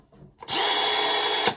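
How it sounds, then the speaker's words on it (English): Power drill whipping Gillette Foamy shaving lather, switching on after a quiet moment and whirring steadily at close range for about a second before cutting off. "we're going to drill lather."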